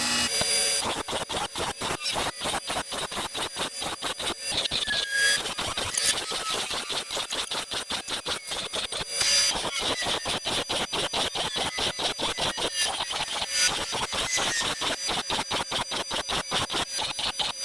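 A Snapper Pro SW30 mower blade is ground sharp, giving a continuous close, harsh rasping and squealing grind with a rapid pulsing texture, steady and loud throughout with no talk.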